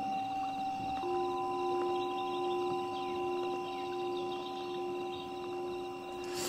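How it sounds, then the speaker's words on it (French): Sustained ringing tones of a Tibetan singing bowl, played by a white noise machine, hold steady over a soft ambient bed, a resonant metallic hum that lingers without fading, like a struck bowl sounding continuously. "un petit peu de son tibétain"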